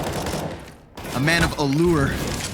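Gunfire rattles in a Counter-Strike match on the Overpass map during a tournament grand final, loud bursts of shots running through the clip while an excited commentator talks over them.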